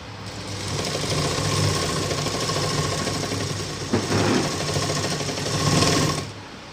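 A sewing machine stitches around a blouse with a loud, continuous motor whir and rapid needle clatter, briefly shifting about midway before running on and stopping.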